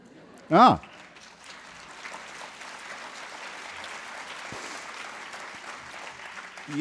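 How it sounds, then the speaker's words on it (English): A debate audience breaks into steady applause that fills the hall, a continuous wash of clapping sustained for several seconds after a brief spoken interjection at the start. "I can hope to live in a country where I can say that and get applause."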